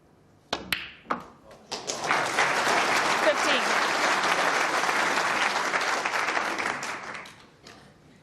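Audience applause at a 2012 World Championship snooker match between Stephen Hendry and Stuart Bingham starts with a few scattered claps, swells into sustained clapping and fades away, with a commentator's voice briefly heard.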